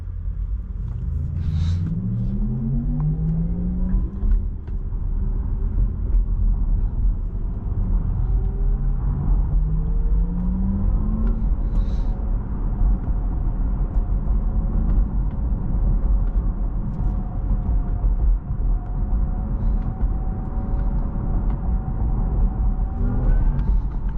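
Inside a 2022 Porsche Taycan 4 Cross Turismo electric wagon while driving, a synthetic electric sports sound rises and falls in smooth pitch sweeps as it accelerates, over constant low road rumble, with no talking.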